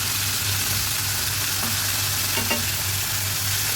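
Fish dusted with flour frying in a pan, giving a steady, dense sizzle from start to finish with a low hum underneath and a few faint clicks.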